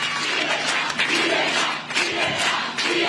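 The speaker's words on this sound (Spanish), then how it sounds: "As pessoas gritando: liberdade," A large crowd at a Venezuelan opposition gathering shouts and chants together, a dense and loud roar of voices with rhythmic swells that runs throughout.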